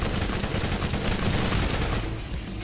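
Enemy gunfire in Borderlands, a dense, continuous rattle of rapid shots and blasts, loud and close, running unbroken without pause.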